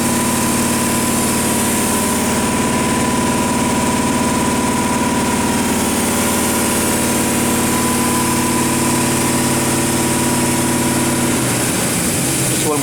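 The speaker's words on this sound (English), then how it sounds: "I'll start it after the compressor shuts off." A deep hole gun drilling machine, an Eldorado M75-1041, drones loudly and steadily with its air compressor running, a constant mechanical hum that cuts off sharply near the end.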